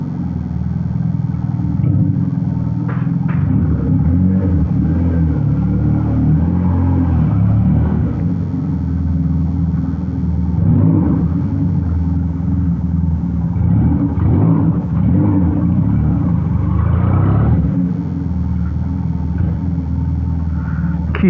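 A Benelli Patagonian Eagle 250 motorcycle engine runs loud and close, with a deep rumbling idle and several throaty revs rising and falling over about twenty seconds.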